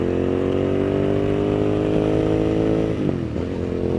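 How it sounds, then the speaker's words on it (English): A Hyosung GT650 motorcycle downshifts under engine braking, its loud, steady engine tone falling in pitch as the revs are pulled down, with a brief shift blip near the end. "So you hear the downshift there,"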